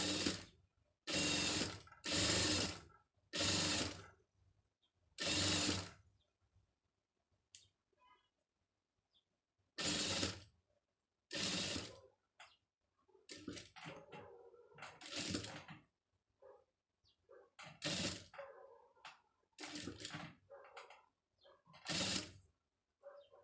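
A sewing machine stitches along a folded fabric hem in several loud, separate bursts, each run lasting about a second and divided by short pauses, with softer handling noises in between.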